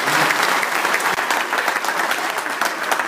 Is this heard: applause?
yes